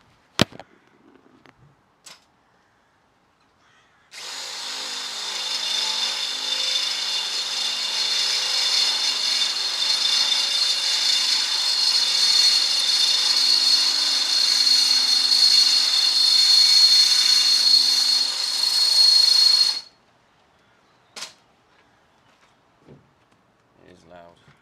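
A power drill enlarges a hole to fit an M10 rivet nut during a van build, giving a loud, continuous high whine for about fifteen seconds that stops abruptly, with faint knocks before and after.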